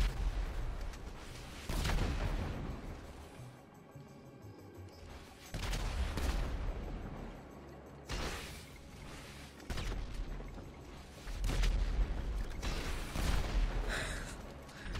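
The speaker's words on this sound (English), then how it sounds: "So, is this what this game mode has turned into, shooting missiles at each other?" Missiles fired in GTA V Online, repeated heavy booming launches and blasts coming in bursts every few seconds, with rumbling decay between them.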